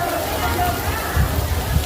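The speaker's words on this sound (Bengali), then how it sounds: "বৃষ্টি হচ্ছে তখন" Rain falls steadily in a dense, close hiss, with voices faintly audible underneath.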